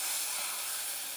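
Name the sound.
fajitas sizzling on a hot Weber griddle insert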